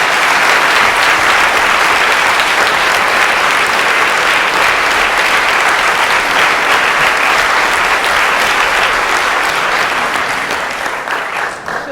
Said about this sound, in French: Je vous demande donc une avalanche d'applaudissements pour Madame Anne Gruet, s'il vous plaît.